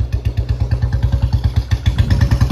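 A loud Royal Enfield Bullet motorcycle thumps close by with a rapid, steady single-cylinder beat as it pulls away in first gear.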